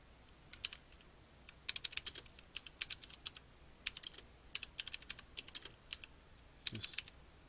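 Text being typed on a computer keyboard, quick bursts of light clicking keystrokes with brief pauses between them, close and fairly quiet, with no voices.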